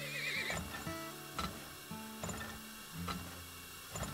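Cartoonish game horses in the oil-drilling game Turmoil give a shrill whinny, then soft clip-clop hoofbeats tick in a rhythmic pattern among mechanical clicks and quiet machinery sounds.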